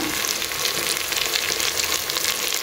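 Tomatoes softened in a pan fry with powdered masala spices such as Kashmiri chili powder, giving a steady, dense sizzle that stays even and fairly loud throughout, with no voices.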